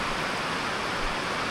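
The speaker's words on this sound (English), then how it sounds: "Yeah, that's rain." Steady, dense rain falls outdoors as a continuous hiss, heavy and unbroken from start to finish, with no voices.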